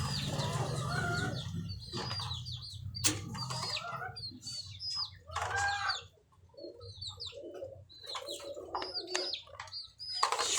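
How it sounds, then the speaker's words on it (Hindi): Pigeons at a pigeon club coo and call in overlapping bursts close by, with occasional sharp wing flaps. A low background hum sits under the birds, and no one speaks. "सादगी में कबूतर देखें आप।"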